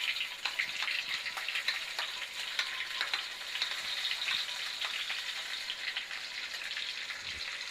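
Paneer and green chilies frying in oil in a pan, a steady close sizzle and crackle with scattered pops and light stirring, no voices over it.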